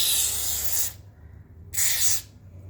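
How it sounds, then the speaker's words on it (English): Two hissing bursts of silicone spray aimed along the inside of a Kia Sportage's power window tracks, each nearly a second long, close and loud, with a short pause between them. "grab your silicone spray and carefully apply it along the inside of the window tracks."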